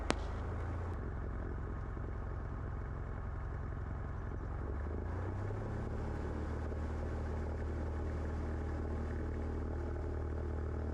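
A small airplane's engine runs at full power through the takeoff roll, a loud, steady droning roar that holds for the whole stretch with no talk over it.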